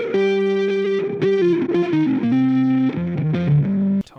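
Electric guitar heavily processed with distortion and effects, a thick saturated sustained line with shifting notes and chords, loud and continuous throughout before stopping abruptly.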